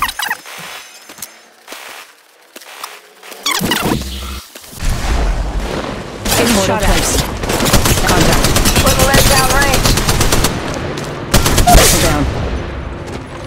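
Sustained automatic gunfire from a match of the mobile battle royale shooter Apex Legends Mobile, loud dense bursts rolling continuously after a quieter opening with scattered shots and a thump.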